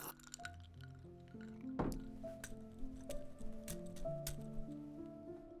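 A quick sip of water makes a short wet slurp and swallow close to the mic, with soft background music underneath.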